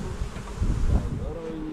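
Honeybees buzz in a close, dense swarm as they are shaken from a frame into a collecting box, a droning hum with a brief swell of knocking and movement.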